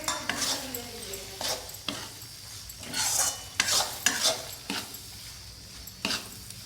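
Boiled, ground spinach being stirred into fried spices in a wok (kadhai) for palak paneer, with a utensil scraping and clinking against the pan in irregular close strokes over a soft sizzle.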